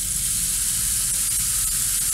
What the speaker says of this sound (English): sometimes the storms are just a gentle rain